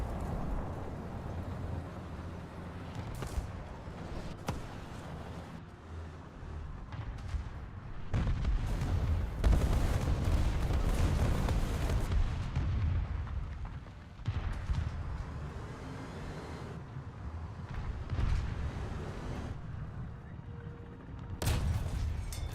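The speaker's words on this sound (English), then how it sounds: "he's gonna try and artillery me" Artillery fire in War Thunder, deep rumbling booms and blasts rolling in and out over constant battlefield noise, fairly distant and heavy, with no clear talking.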